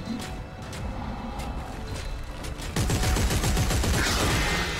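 Gunfire from the Dead Space 3 demo during a combat fight, a stretch of scattered shots followed by a louder, denser burst of rapid firing in the last two seconds.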